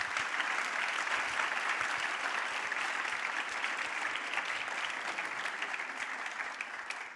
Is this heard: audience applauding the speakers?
yes